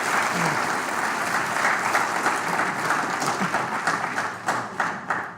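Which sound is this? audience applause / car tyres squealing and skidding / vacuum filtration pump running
audience applause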